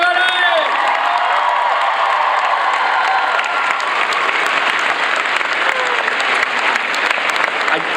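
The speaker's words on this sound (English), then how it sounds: "Big round of applause for Kelsey, everybody!" A live comedy-show audience applauds and cheers, steady dense clapping with scattered whoops, voices mixed in under the noise.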